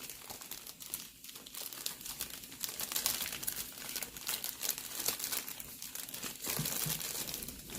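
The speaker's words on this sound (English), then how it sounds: "You go ahead and place it in the corner, and then you fold down your bag." A plastic piping bag being folded down after a tip is set in its corner, heard as close, continuous crinkling and rustling with soft crackles throughout.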